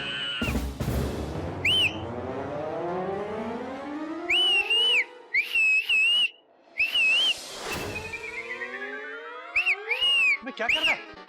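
A person whistling in short rising and falling bursts, several separate phrases, loud and close, amid other sliding tones and busy background sound.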